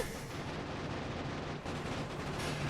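Grenade explosions in the game Factorio, a continuous rumbling barrage of blasts, fairly loud and dense, with one brief dip and a swell near the end, no talk.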